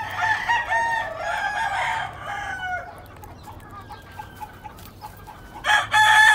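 Lacy Roundhead gamefowl, a rooster crowing loudly and close with a hen clucking, several drawn-out crows and clucks in sequence, a final loud crow at the end.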